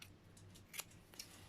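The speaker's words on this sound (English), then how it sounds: "you can then get the scissors up underneath and trim under the chin to make it the same" Scissors trimming the fur under the chin of a Doodle-type dog during home grooming: a few quiet, crisp snips, two clearer cuts standing out, against a soft, near-silent background.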